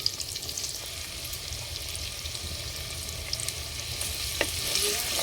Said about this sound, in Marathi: तेल गरम झालं की लगेच आपण आलं लसणाची पेस्ट थोडीशी टाकून घ्यायची